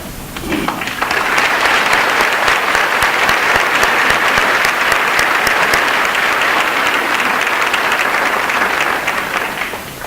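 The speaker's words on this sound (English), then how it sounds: "do join me in an applause for these people" A large audience at a Northside high school graduation ceremony applauds faculty and staff, with steady, dense clapping that fills the room and holds evenly for about ten seconds with no talking.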